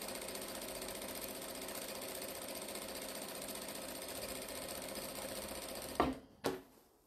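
Sewing machine running steadily for about six seconds while top stitching a jelly roll strip tote at a long stitch length, a continuous mechanical whir that stops abruptly, followed by two short thumps.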